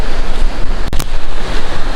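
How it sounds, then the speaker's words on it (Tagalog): Loud wind buffets the microphone over crashing ocean surf near the shore at Naujan, Mindoro, a continuous roaring rush with one sharp gust burst in the middle. "malaki pa ang alon tsaka malakas ang hangin"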